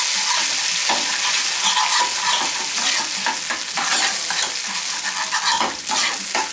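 Mushroom onion gravy, about two tablespoons, warms in a pan with a steady close sizzle and occasional stirring scrapes, and no one speaks.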